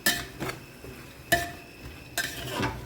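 Green paste being stirred and cooked in a pan for a veg pulao, with three distinct scraping clinks of a spoon against the metal pan spaced about a second apart over a low background hum.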